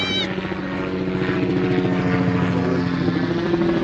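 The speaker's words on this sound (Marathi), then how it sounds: "हेलिकॉप्टर गेलं ना." A helicopter passes overhead, its rotor and engine drone loud and steady with a throbbing beat, no talking over it.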